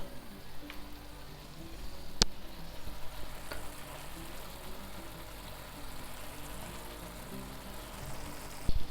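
Eggs frying in a pan while cooking a Lenten salt cod dish, a steady, moderately loud sizzle and crackle with a couple of sharp utensil clicks.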